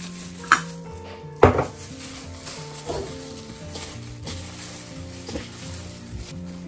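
Food sizzles in a pan while a utensil stirs and scrapes in salted combro filling, with a few sharp clinks of metal against the pan.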